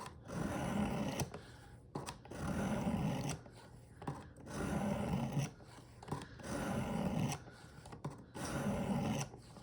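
Knife blade being sharpened on a Work Sharp Precision Adjust stone: repeated gritty scraping strokes in steady back-and-forth bursts, close and fairly loud, each stroke about a second long with short pauses between.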